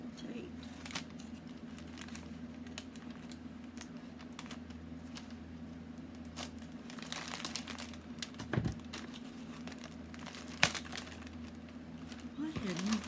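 Crinkling and tearing of tape on a plastic mail bag being pulled open by hand, steady rustle with a few sharper rips, a low hum underneath.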